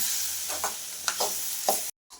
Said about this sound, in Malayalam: നമ്മൾ ഇളക്കാൻ പോവാണ് കേട്ടോ.